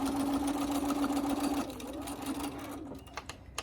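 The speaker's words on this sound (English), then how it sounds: "And just keep going till the end. Back stitch a little bit. You can sew right off of there." Sewing machine stitching a zippered project bag, a steady close motor whir with a brief back-stitch, then stopping and going quiet with a few faint clicks.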